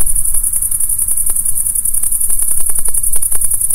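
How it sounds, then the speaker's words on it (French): Crickets chirp in steady rapid pulses beside a small river, a dense close insect trill over a constant high hiss and low rushing background, with no talking. "c'est des grillons, des criquets, je sais pas trop, mais apparemment Dimitri déteste ce bruit là"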